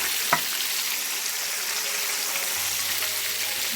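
Naga wings fry in hot oil with a dense, even hiss that stays close and constant, with one quick knock near the start and no voices.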